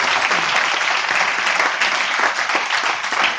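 A loud, close burst of audience applause fills a motivational speaking event, dense clapping from a large crowd sustained evenly throughout with no speech over it.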